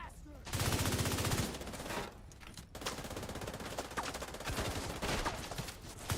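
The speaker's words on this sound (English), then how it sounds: "I'm getting rolled by the machine gunner" Sustained machine gun fire in The Division 2, a dense, loud, continuous rattle of rapid shots with brief gaps, filling the whole stretch.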